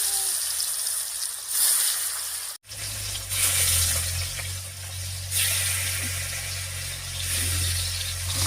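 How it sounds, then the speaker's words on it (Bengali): Chitol fish sizzles and crackles in hot mustard oil in a wok, a dense continuous frying hiss with a brief break, fairly close and without talk. "মাছটা ভাজা হতে থাক"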